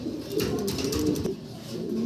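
Pigeons at a farm, kept in a cage for sale, give soft repeated coos close by over a steady low background.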